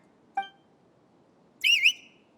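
Two whistles sound in the Genshin Impact video game, a short sharp note followed a second later by a longer warbling tone, clear against near silence.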